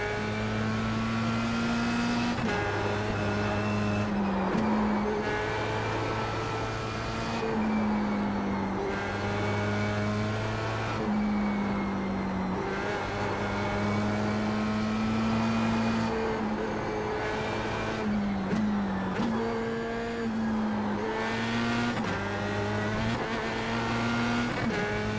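Formula Sprint open-wheel car lapping the Suzuka East course in the iRacing simulator, its high-pitched engine whining continuously as it shifts up and down through gears, loud and steady throughout with no talking.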